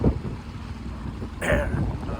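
Gusty wind while sailing buffets a microphone in uneven gusts, with a louder rushing burst near the end over a low, rumbling background.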